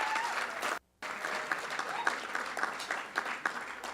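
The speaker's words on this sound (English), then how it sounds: "Let's give him a big round of applause." A big round of applause at a gala dinner: a full room clapping steadily and loudly, with a brief sudden dropout early on, then the clapping continuing with some crowd murmur mixed in.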